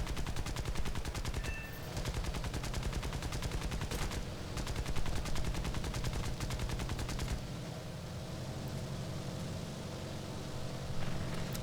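Rapid bursts of aircraft machine gun fire in the War Thunder combat flight game rattle on almost continuously, with dense rhythmic shots, a brief lull near the middle and a thinner stretch toward the end.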